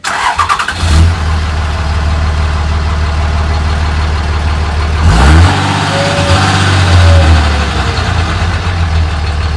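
A 2005 Cummins diesel engine cold starts with a quick cranking burst, then settles into a loud, close, rumbling idle, with a brief rev surge midway before evening out again.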